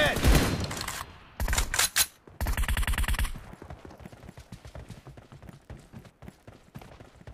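Sharp gunshot volleys in PUBG Mobile on a Poco X3 Pro, a loud rapid burst early on followed by a string of lighter, evenly spaced shots and clicks.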